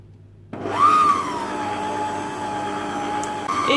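An electric mixer whips cream with sugar, starting up abruptly, rising in pitch and then settling into a steady whirring drone. The whine shifts slightly near the end.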